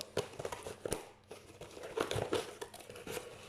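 A small parcel box is cut open with scissors, its wrapping crinkling and rustling in close, irregular bursts with a few sharper snaps, and no one speaks.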